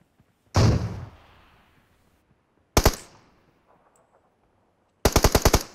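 Gunfire in PUBG Mobile, a single loud shot with a decaying tail, another sharp shot about two seconds later, then a fast burst of five or six rounds near the end, all close and with no talk.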